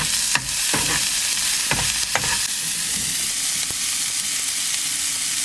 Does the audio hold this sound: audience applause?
no